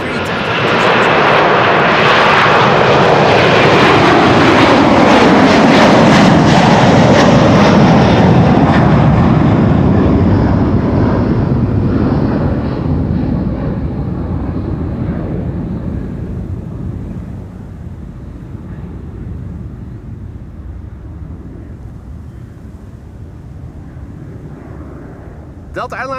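A Delta Air Lines Boeing 767-400 jet at Amsterdam Schiphol Airport gives a loud, broad roar that holds strong for about twelve seconds and then slowly fades as it moves away, with a voice talking at times over it.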